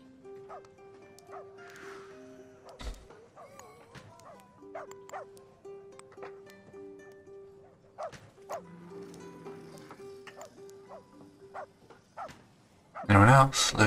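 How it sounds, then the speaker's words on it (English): A dog in the village-building video game Rise to Ruins barks several times in short separate yips over a steady game tone, with a burst of louder noise at the end. "Minus the dog that's joined my village."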